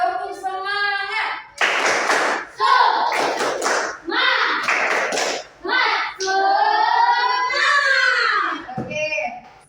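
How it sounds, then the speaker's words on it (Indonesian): A school class performs a rhythmic clapping chant before going home, bursts of hand claps alternating with children's chanted voices in a lively, fairly close sequence. "Sebelum kita pulang, kita tepuk semangat terlebih dahulu."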